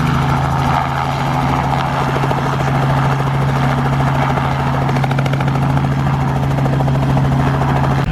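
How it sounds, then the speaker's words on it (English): Helicopter about to land outside a museum beside the Bush's Beans Family Cafe, a loud, steady rotor thrum with a constant low drone and dense whirring chop, close and unbroken throughout. "There is literally a helicopter about to land outside of the museum."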